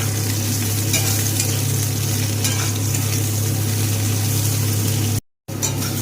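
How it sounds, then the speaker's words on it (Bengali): Eggplant pieces fry in oil in a pan, a dense, loud, steady sizzle with a low hum underneath, broken by a short silent gap near the end; no one speaks. "ওই তেলের মধ্যেই ভেজে নেব বেগুনগুলোকে"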